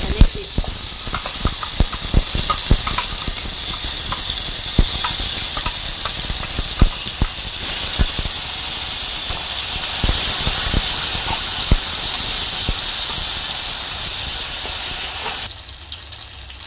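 Nut paste goes into hot oil with cinnamon, cloves, cardamom and garam masala, producing a loud, continuous close hiss of sizzling, dotted with small pops, that drops off sharply near the end.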